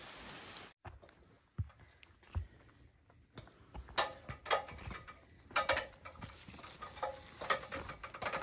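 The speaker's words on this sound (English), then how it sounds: "We're waking up to rain this morning." Morning rain patters on a campsite beside Stony Brook on the Appalachian Trail in Vermont, scattered close drips and taps growing busier toward the end over a quiet background.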